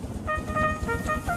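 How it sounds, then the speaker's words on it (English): A short, bright steam train whistle sounds several times in quick succession over a low rumbling background. "Then he heard a whistle."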